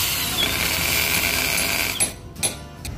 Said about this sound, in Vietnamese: Đầu tiên là sẽ khoan lỗ để mình bắt cái vít vô nha anh em.